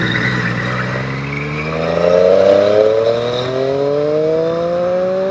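A Triumph Street Triple RS motorcycle in sport mode accelerates hard, its engine note climbing steadily in pitch through the gear with a rising whine and wind rush, loud and close.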